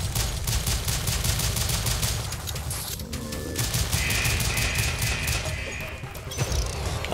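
Gunfire from the video game Rise & Shine rattles in rapid, continuous bursts, loud and dense throughout with short pauses and metallic clanks mixed in.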